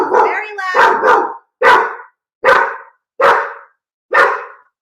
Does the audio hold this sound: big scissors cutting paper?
no